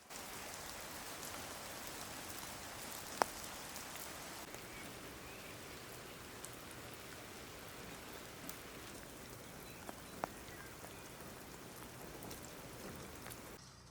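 Steady rain falls on an outdoor surface, a soft continuous patter with a few isolated louder drops, heard alone with no talk.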